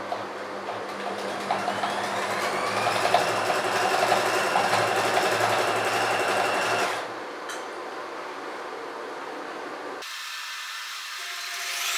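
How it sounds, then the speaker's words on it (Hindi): Sewing machine stitching along the crease of a shalwar trouser, a loud close motor whir for about seven seconds that stops, followed by quieter mechanical sounds and a brief final hum. "इस क्रीज पर फिर आपने लगानी है सिलाई।"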